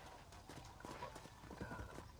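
Hooves of a horse named Shadow clip-clopping in Red Dead Redemption, a steady close rhythm of hoofbeats with a brief whinny-like tone, heard alone without talk.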